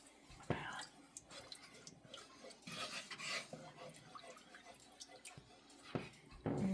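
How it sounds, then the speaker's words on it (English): Sugar being stirred into Glühwein in a pot, with soft scraping and clinking of a utensil against the metal, light drips and faint liquid movement, close and quiet, with low speech in the background. "And we're going to stir that and bring it to a boil."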